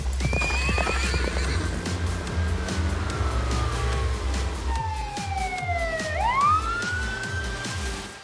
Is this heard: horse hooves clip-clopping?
yes